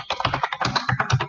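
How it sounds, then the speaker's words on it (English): Hard, rapid typing on a computer keyboard, with dense irregular clacks and keystrokes hammered close to the mic and no talk over them. "Who is beating their keyboard?"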